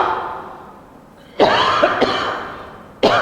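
A few sharp coughs close to the microphone, with a short pause between the first bursts and one more after a gap, over a low background hiss.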